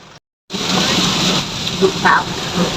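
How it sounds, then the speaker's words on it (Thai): Heavy rain heard from inside a vehicle on a road trip in Thailand, a dense steady hiss and patter on the roof that starts after a brief silence and continues loud. "ฝนตกแรงครับพี่น้องยังไม่ถึงไหนเลย"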